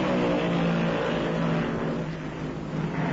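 A dense, continuous roar of stock car engines racing together at high speed on an oval track, about 148 miles an hour, loud and steady with no pauses, at the 1974 Southern 500.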